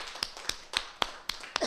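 A church congregation claps together during a worship service: six sharp, evenly spaced claps, each one distinct and fairly close, with no talking in between.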